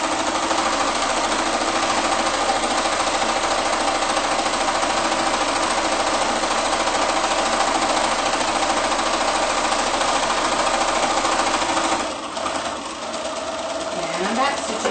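Close, loud and continuous, a sewing machine hums and rattles straight across a dress hem, running unbroken for about twelve seconds before slowing and stopping.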